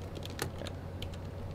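Fast, close clicking of keys on a computer keyboard, a steady run of light taps over a low constant hum.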